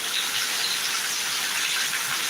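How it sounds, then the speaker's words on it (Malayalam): Heavy summer rain pours down in a dense, steady rushing hiss, unbroken and fairly close, with no voices over it. "ഇതാ അടിപൊളിയായിട്ട് പെയ്യുന്നുണ്ട് മഴ"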